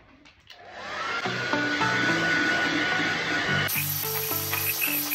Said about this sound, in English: I'm going to now use my hairdryer to finish off drying that.